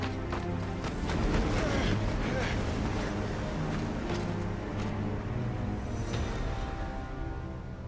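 Stormy wind in the Final Fantasy 16 video game roars as a broad, steady gusting rush, swelling slightly early on and then holding a constant, heavy level throughout.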